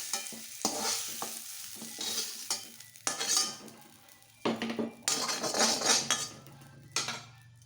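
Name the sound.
fried jackfruit pieces stirred and lifted from pan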